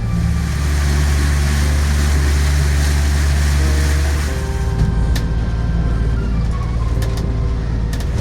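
A shanty boat with a new Yamaha 40-horsepower outboard runs at full throttle carrying two people and a Beagle, producing a loud, steady engine drone with water rushing underneath. The tone shifts and eases a little partway through.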